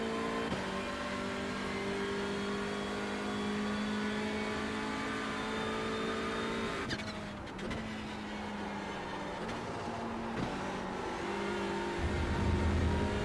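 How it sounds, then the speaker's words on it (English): A race car engine drones at high revs through a corner at Silverstone, pitch holding then dropping and shifting as it understeers wide, with steady mechanical roar throughout. "You could hear it just understeering out wide."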